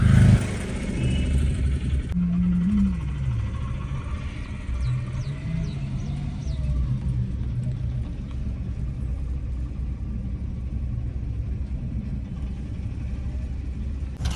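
Heavy road traffic in a jam, heard from inside a car: a steady low engine rumble and muffled passing vehicles continue throughout, with a brief tonal engine or horn swell early on.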